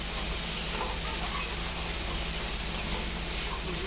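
Chopped jackfruit frying in a pan with salt and chili powder, stirred as it cooks for a jute-leaf and shrimp dish; a steady, even sizzle and hiss continues without a break, with no talk.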